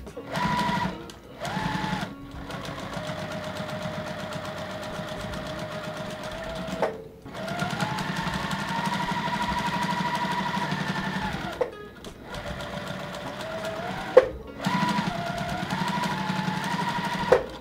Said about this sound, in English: I'm going to just fold it back over itself into the sewing machine.